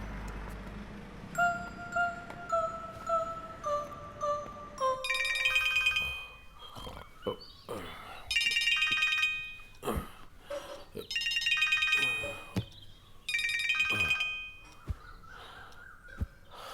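A telephone rings while a call is being placed, first as a rising ringback tone and then as repeated bursts of a bright electronic ringtone separated by short pauses, loud and close.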